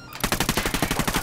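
Rapid automatic gunfire in the video game Ghost Recon Wildlands, a loud, close burst of about a dozen evenly spaced shots fired in quick succession after a brief quiet start.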